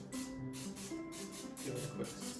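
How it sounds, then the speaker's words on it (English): Cooking spray hisses onto a donut pan in a few quick, fairly loud bursts with short gaps between them, over a low steady background hum. "give it a quick spray"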